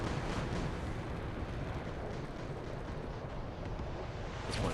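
Dense, roaring burst of rocket fire and explosions in a jet fighter combat game featuring the Su-22 Fitter, loud and continuous throughout with no pauses.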